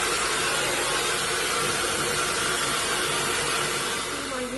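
A handheld hair dryer blows steadily on partly dried hair, giving a continuous loud rushing whoosh that stays even throughout with no talking.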